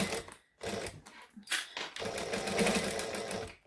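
Sewing machine stitching a bag in several short bursts separated by pauses, then a longer steady run, close and moderately loud, with no talk.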